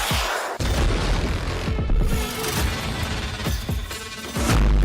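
Missile strike explosions during a large attack on Ukraine, as heard in news footage: heavy, continuous booming and rumbling crashes that are loud and dense from start to finish, with no talking.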